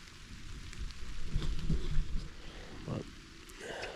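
Steady rain falling outdoors in a southern Ohio woodland during a public-land deer hunt, a continuous soft hiss with scattered heavier drops and a low rumble, close and moderately loud.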